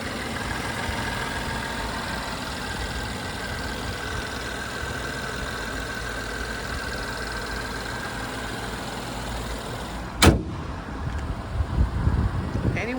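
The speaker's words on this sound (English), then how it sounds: "Nice sound from this V6." A 2015 Mercedes-Benz GLK350 4Matic V6 idles with a steady, even low rumble and a faint hum throughout, then a sharp click and some brief handling noise near the end.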